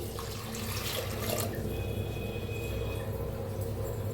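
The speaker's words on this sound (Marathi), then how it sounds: "आता त्याच्यात ओतूया पाणी" Water pours steadily into a metal pressure cooker holding washed dal, a continuous splashing rush with no voices.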